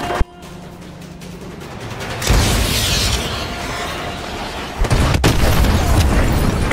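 AGM missile strikes in a PC war game set in Petropavlovsk, Russia: a sharp bang followed by a sustained roaring, rumbling blast that swells again near the end, loud and close with no talk.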